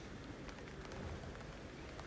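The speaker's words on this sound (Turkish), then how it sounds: "Evet indiriyor şu anda yağmur." Heavy rain pours down outdoors, heard as a faint, even hiss of drops striking surfaces with no break and no voices.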